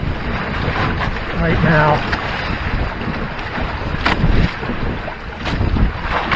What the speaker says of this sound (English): We're sailing about 280 degrees.